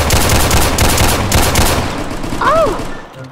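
Automatic gunfire from a Roblox hood game rattles in a rapid, loud, sustained burst for about two seconds, then fades. A short rising-and-falling tonal sound follows, with brief speech mixed in.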